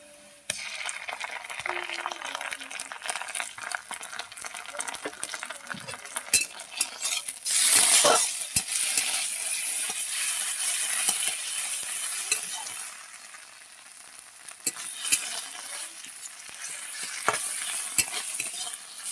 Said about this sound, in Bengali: পেঁয়াজটাকে লাল লাল করে ভেজে নেব। দিয়ে দেবো আদা রসুন বাটা।